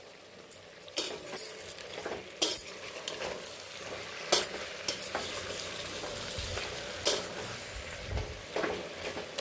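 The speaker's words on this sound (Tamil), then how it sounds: "இப்போ டமாட்டா போடுறேன். போட்டு நல்லா மிக்ஸ் பண்ணலாம்." Tomato being stirred into half-cooked chicken for biryani, a spoon scraping and clinking against the pan in uneven strokes over a steady close sizzle.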